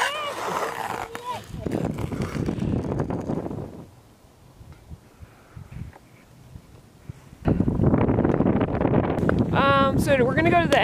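Wind gusting across a frozen pond during outdoor ice skating, a broad rushing roar that buffets the microphone, dropping to a lull midway before surging loud again, with a person talking over it.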